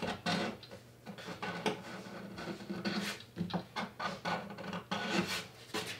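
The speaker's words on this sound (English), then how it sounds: "I just want to get this down to the wood, and I'm gently scraping it." Scraping the finish down to bare wood on a guitar neck during a neck reset, with close, repeated rasping strokes in uneven rhythm and brief pauses between passes.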